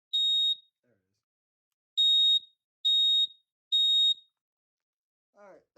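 A USI SS-770 smoke detector alarm sounds four short, piercing beeps at close range, one alone and then three evenly spaced, followed by a brief faint rustle.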